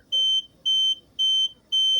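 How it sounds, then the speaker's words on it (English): An ozone generator kit's alarm gives four evenly spaced, shrill electronic beeps, each about a quarter second long with short gaps between, clear and close over faint background hiss. "That alarm should go off."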